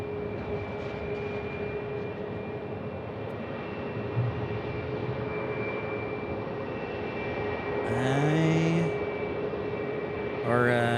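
China Airlines airliner taxiing across a bridge at Phoenix Sky Harbor Airport, a steady, moderately distant engine hum with a constant high whine, joined by brief voices near the end.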